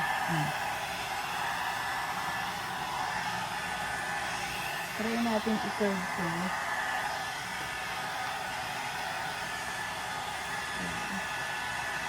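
A hair dryer comb blows a steady, loud whoosh from start to finish while someone speaks briefly over it.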